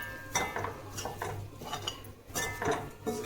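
Masala for chappathi egg kothu being stirred in a pan with a metal spatula: a steady run of scraping, clinking strokes against the pan, close and moderately loud, with no talking.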